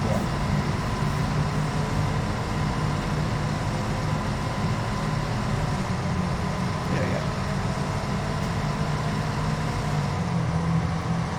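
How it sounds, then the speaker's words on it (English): Engine of a Mercedes-Benz O305G bus in the OMSI 2 driving simulator, a loud constant low drone with road rumble, steady throughout without change. "But this bus is so loud."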